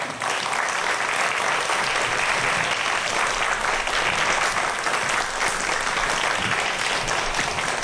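A live audience claps loudly and steadily as a robotics scientist is welcomed onto a lecture stage, the dense applause holding at an even level throughout with no voices above it.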